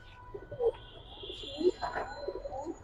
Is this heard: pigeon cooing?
yes